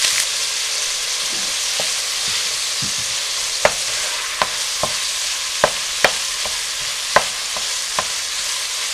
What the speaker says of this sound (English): we're going to break this up and cook it just until it's brown